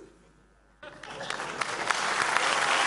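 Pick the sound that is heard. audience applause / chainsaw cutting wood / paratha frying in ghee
audience applause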